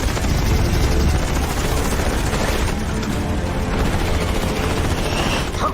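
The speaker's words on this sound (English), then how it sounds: "Out of missiles! Switching to guns!" Fighter jet cannon fire in animated aerial combat, a dense continuous rattling roar of rapid gunfire mixed with engine noise, loud and sustained throughout.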